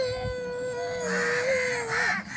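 A young child imitates a crow with a single long, drawn-out caw-like wail that rises and falls before breaking off abruptly at the end, close and fairly loud.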